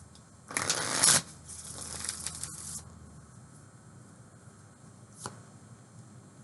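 Tarot cards shuffled close up in a loud, crisp burst, then a softer stretch of riffling and sliding for a couple of seconds, ending with a single brief snap amid quiet.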